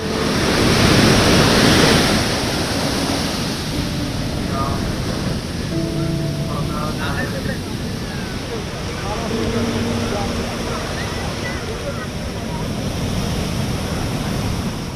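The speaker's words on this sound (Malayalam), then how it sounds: "എന്നാൽ വീണ്ടും തീരത്ത് വിഴുങ്ങുകയാണ് തിര." Sea waves surge onto Shankhumukham beach at the start of the monsoon and swallow the shore. The surf roars continuously and loudly, with wind noise, and faint voices are briefly audible beneath the wash.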